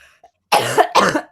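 Two short, harsh coughs close to the microphone, one right after the other, from a person lying in bed, with a faint sound just before them.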